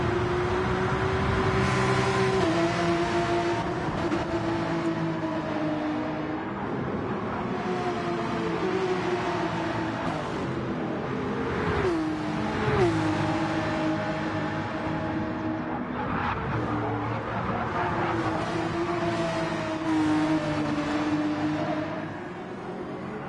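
Poison Racing Porsche race car howls along the track at Spa during pre-qualifying, a steady loud engine note rising and falling through gear changes, with other cars droning nearby.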